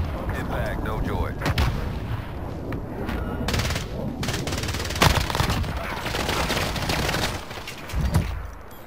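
Airstrike artillery impacts from the Call of Duty Warzone video game, a sustained barrage of booming blasts and rumbling explosions with sharper peaks near the middle and end, loud and dense throughout.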